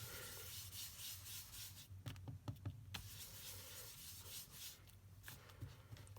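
A makeup sponge rubs and dabs ink onto paper in soft, quiet scuffing strokes, with a few brief taps in the middle, close and alone.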